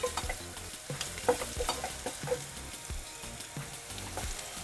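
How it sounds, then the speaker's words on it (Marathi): Onion fries in a pan for ukadpendi, a Vidarbha-style spiced wheat-flour dish, giving steady close sizzling with repeated scraping stirs and light clinks, no talking. "हा कांदा छान थोडा फ्राय करून घेतला"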